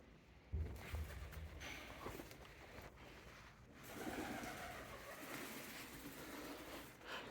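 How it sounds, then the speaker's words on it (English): Pigeons coo softly inside an abandoned church, a low murmuring call that recurs faintly amid echoey room noise and a few distant knocks, with no talk. "Some pesky pigeons playing tricks on us"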